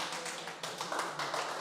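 Audience clapping at a LaravelLive Delhi meetup, a faint, brief patter of scattered hands tapping through the room with no voices.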